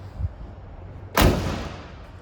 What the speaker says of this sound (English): and this door, what a nice close